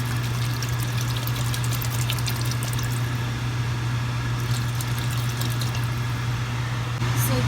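Beef broth pours steadily into a pot of thick beef stew in a home kitchen. It makes a continuous close splashing trickle over a low steady hum.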